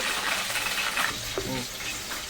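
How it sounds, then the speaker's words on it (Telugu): Fish pieces lightly frying in a pan give a steady, close hiss of sizzling oil throughout, with a few faint utensil clinks on top. "ఇది మనము ఇలాగా ఎక్కువ ఫ్రై లేకుండా లైట్గా ఇలా ఫ్రై చేసేసి మళ్ళీ చేపలన్నిటికీ నేను ప్లేట్లోకి తీసేస్తున్నాను"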